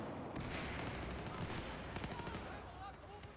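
Rapid automatic gunfire in Battlefield 4 multiplayer crackles in dense bursts, layered fusillade-like shots close and steady across the moment, with faint chatter mixed under the shooting.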